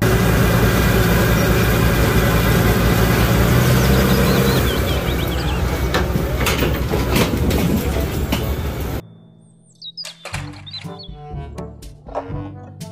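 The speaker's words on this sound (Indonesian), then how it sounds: "Mobil derek." Tow truck sound effect for a children's toy vehicle sequence: a loud, busy mechanical engine and rumbling clatter for most of the stretch, then a sudden cut to quieter, sparser clanks and short tonal bursts near the end.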